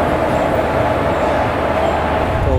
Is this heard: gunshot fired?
no